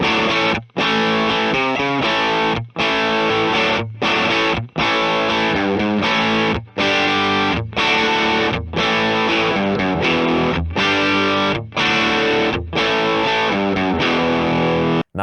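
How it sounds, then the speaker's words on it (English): Distorted electric guitar riff recorded through a plain cable, thick, saturated and sustained, with brief choppy breaks between phrases; loud, close and alone. "So let's hear the first riff recorded with a cable."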